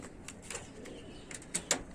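Pigeons on a rooftop, faint soft cooing and light bird calls with a few brief louder chirps near the end, quiet and sparse with no voices.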